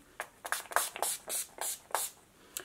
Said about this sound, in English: Do a little all over setting with the Scandinavia Finishing Spray